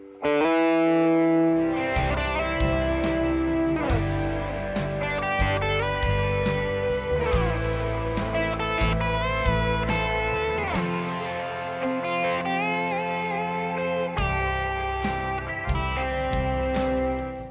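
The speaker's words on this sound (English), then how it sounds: "The root of the chord, the fifth, sliding up to the major third." Distorted electric guitar plays a melodic lead line through effects: a chord root, then the fifth, then a slide up to the major third, repeating over a steady, full backing for the whole stretch.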